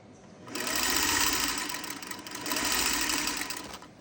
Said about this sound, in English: And then sew another seam